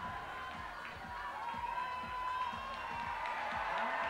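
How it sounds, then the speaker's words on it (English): A crowd at a bouldering World Cup final in Vail cheers and whoops for a climber, a broad, steady roar of many voices that swells slightly toward the end, with faint scattered shouts rising over it. "Crowd love watching her, as you can probably hear."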